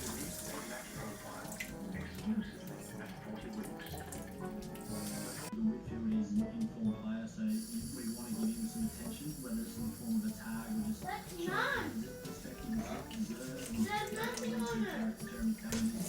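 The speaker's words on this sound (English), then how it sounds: "Now close the water, Baba." Water runs steadily from a household tap into a sink for the whole stretch, with an adult and someone talking over it.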